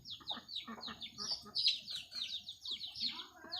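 A caged red-whiskered bulbul gives a rapid run of bright, close chirps and short whistled calls, with a voice murmuring quietly underneath.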